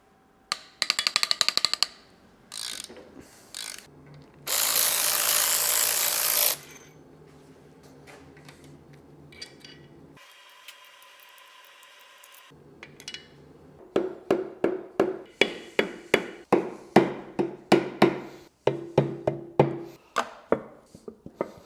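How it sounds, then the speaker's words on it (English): Cylinder head bolts come loose on a prototype hydrogen BMW V12 engine from an E31 850i, with sharp metallic clacks and tool clinks, a stretch of steady ratchet whirring, then a quick run of rhythmic ratchet clicks, close and alone. "Now I'm going to loosen cylinder head bolts"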